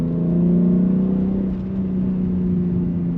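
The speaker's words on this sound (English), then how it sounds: "It's gonna open the exhaust flap." A BMW X3 M Competition LCI engine with the exhaust flap open gives a steady, deep, throaty hum that swells slightly and then eases, close and prominent with no talk over it.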